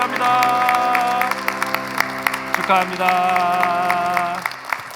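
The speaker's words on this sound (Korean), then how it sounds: "그 박수로 축하해 주시기 바랍니다." Clapping from a church congregation at a Sunday service graduation ceremony, heard under sustained organ or keyboard chords, while a voice speaks briefly.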